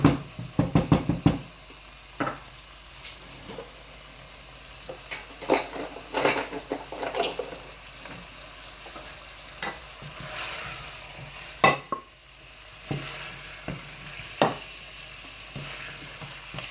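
Cauliflower and meat curry (gobhi gosht) frying in separated oil, stirred with a spatula: a steady sizzle under irregular scrapes and clinks of the utensil against the pot, busier at the start, with no one talking.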